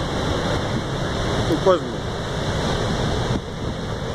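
A roaring waterfall pours with a constant, heavy rush of water while someone speaks briefly over it.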